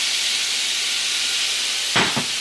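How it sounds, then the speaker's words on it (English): A hot pan gives off a continuous hissing sizzle. Chopped shrimp and cooked mushrooms drop in near the end, bringing a brief louder burst of clatter and crackle. "we are going to add back to the pan our shrimp that we chopped up into little pieces, our cooked mushrooms"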